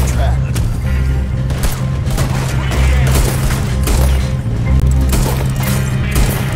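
Dense, rapid gunfire in Red Dead Redemption 2 crackles nonstop in a loud barrage over a deep, droning rumble, like a heavy firefight.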